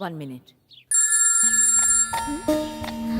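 A telephone rings for an incoming call during a scene in a Hindi-dubbed film, a steady electronic ringtone starting abruptly and repeating loudly, with someone speaking briefly just before it begins.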